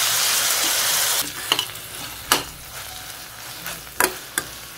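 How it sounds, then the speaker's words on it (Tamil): Tomatoes and onions sauté in a pan for kadai paneer. A loud, hissing sizzle opens, then fades into quieter frying broken by several sharp scrapes and knocks of a spoon. "தக்காளி வெங்காயம் நல்லா வதங்கிருச்சு"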